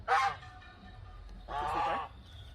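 Two loud goose honks, one short and one longer, separated by a pause, close by over a low background hum.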